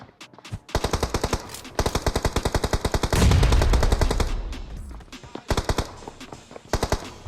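Automatic gunfire in BGMI (PUBG Mobile) during a battle, with loud rapid bursts of shots in several volleys and a heavier blast-like burst midway, carrying on with no talk.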